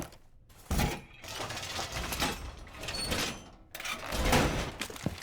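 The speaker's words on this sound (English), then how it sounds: "We're going to reinforce this cocktail wall." Wall being reinforced in Rainbow Six Siege on the Kafe map, a string of loud metallic clanks and scraping bursts separated by short gaps, with no talk.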